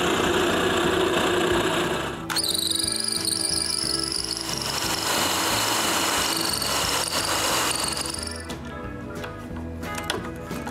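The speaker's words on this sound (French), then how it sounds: "puis je perce le trou pour l'écrou" A power drill boring a hole for a nut in a wooden band saw frame, a loud continuous whirring drone with a high whine that steps up in pitch partway through and eases off near the end, with no talking.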